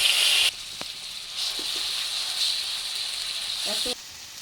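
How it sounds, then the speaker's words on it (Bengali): Onion, ginger and garlic paste dropped into hot oil, a steady hiss of frying with a few faint clicks of a utensil, recorded close with a noticeable step in background level. "এবার পেস্টটা আমি তেলের উপর দিয়ে দিচ্ছি"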